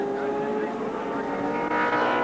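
Group C touring cars race at Wanneroo Raceway, their engines a steady loud roar on the straight, with a commentator talking over the top.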